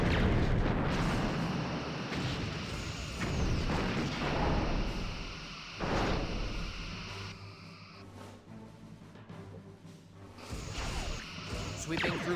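Torpedoes fired in the space combat game Star Trek Bridge Commander make heavy booming launches and whooshes over a dense, rumbling starship battle background.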